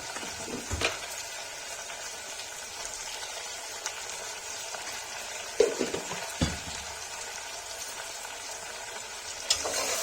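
Kashmiri peas and potato curry frying in a pan makes a soft, continuous sizzle, broken by a few clattering stirs and scrapes of a spoon.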